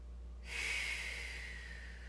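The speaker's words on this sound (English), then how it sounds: "Exhale it out. 2 more breaths here." One slow, deep exhale during yoga practice, a soft close breathy rush that starts abruptly and fades gradually over about a second and a half, with no talking.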